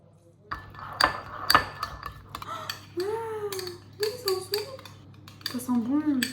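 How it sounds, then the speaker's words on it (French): Broccolini is stirred with sauce, parmesan and miso butter in a pan, giving clinking utensil scrapes and pot clatter close by, with a person talking over the later part. "je mélange les brocolini à la sauce, je rajoute du parmesan"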